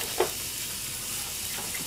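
Garlic sizzles in a frying pan during a grilled sandwich recipe, giving a steady, close hiss with a brief louder pop near the start and no talking.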